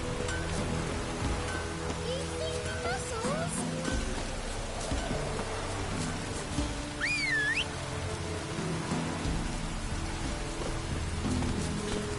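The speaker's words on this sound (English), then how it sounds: "Looks like rain." Steady rain falls in the video game The Witcher 3: Wild Hunt, a constant hiss throughout with faint whistling bird calls and occasional rustling layered on top.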